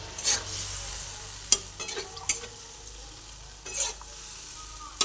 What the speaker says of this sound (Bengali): এরপরে যে ফুলকপিগুলো ভেজে রেখেছিলাম সেই ফুলকপিগুলোকেও এই ঝোলটার মধ্যে দিয়ে দিলাম